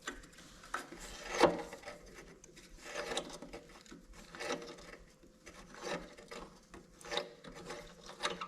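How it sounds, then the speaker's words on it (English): A small 1/4 inch ratchet loosens rusty bolts on a Honda clone 3-inch trash pump, giving quiet, close clicking bursts at irregular intervals, with a sharper creak near the start and faint clatter between the strokes. "I'll just grab the little ratchet and the 1/4 inch ratchet to see"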